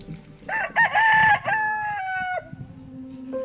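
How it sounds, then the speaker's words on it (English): A rooster crows loudly and close by in Puerto Rico, one long rising-and-falling call, followed by a few softer clucks. "When the rooster crows, Aida Proceso wakes her family."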